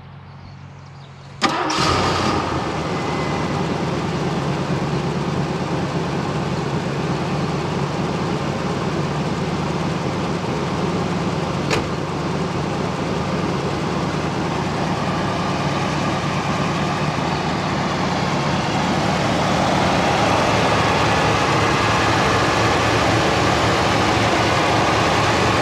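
A 1977 Ford LTD Landau with a 400 V8 and single exhaust cranks briefly and fires up, then settles into a steady, rumbling idle close by that runs uninterrupted for over twenty seconds, with no talking.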